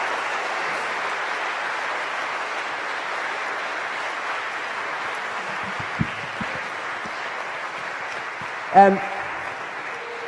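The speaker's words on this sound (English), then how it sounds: "Please, once again, give our panelists a round of applause." An audience applauds panelists at the close of a discussion event on ministry, climate change and fossil fuels, a steady, even wash of clapping that holds for the whole stretch, with a brief voice breaking through near the end.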